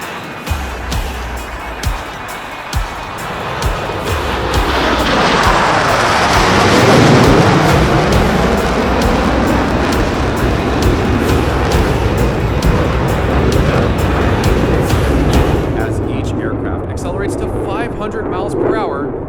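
Blue Angels jet aircraft in DCS World performing individual brake turns at an air show, a loud sustained roar that swells and sweeps over several seconds, with scattered crackling bursts, then fades toward the end.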